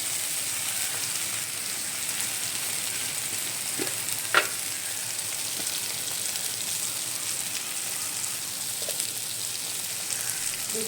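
Ground cumin frying in a pan makes a soft, even sizzle throughout, with a couple of brief stirring clicks partway through.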